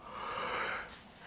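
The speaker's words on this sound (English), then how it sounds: "As long as I'm yawning like this" A single person yawning: one drawn-out breathy exhale, close and soft, rising and then fading over about a second.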